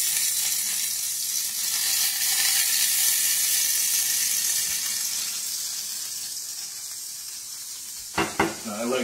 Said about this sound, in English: these are my sausage patties. Okay, they're cooking just wonderfully